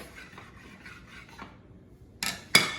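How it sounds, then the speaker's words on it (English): Bench scraper cutting through a ball of empanada dough on a work surface, soft faint rasping rubs followed by two short sharp scraping strokes close by. "We did that with our bench scraper."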